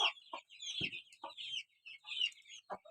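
A hen clucks nearby on a poultry farm in a run of short, irregular calls, with other birds chirping faintly in the background.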